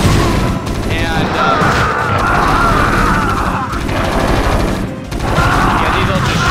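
Gunfire crackles from units in a StarCraft match between Zerg and Terran, with dense rapid shots and bursts forming a loud, continuous fusillade over game background sound.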